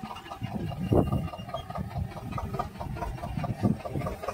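A Swaraj 724 tractor engine idles in a farm field before disk harrowing, a low chugging mechanical rumble with uneven surges, fairly close and continuous.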